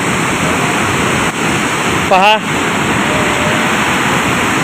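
The large Sahastrakund waterfall, on the Nanded–Yavatmal border in Maharashtra, roars in a loud, constant rush of water, with a short spoken word briefly rising above it.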